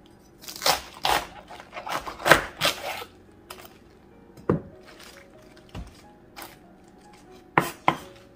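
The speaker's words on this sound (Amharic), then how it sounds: "እንደምታዩት በጣም በስሱ ነው መክተፍ ያለበት።" A knife chops cabbage finely on a board for sauerkraut: close, crisp cuts in quick bursts and scattered single strokes with pauses between, no talking.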